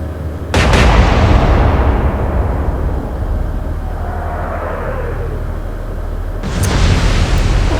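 Battleship main guns fire in the naval game Atlantic Fleet with a heavy, loud boom and a long rumbling tail, a faint whistling shell in flight, then another sharp blast toward the end.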